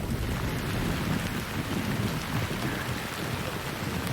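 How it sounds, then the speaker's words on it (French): Heavy rain pours down outdoors during a family bike trip through Florida, a dense, steady roar of drops hitting surfaces, close and continuous with no voices. "On vient de survivre à notre première pluie, quand même intense."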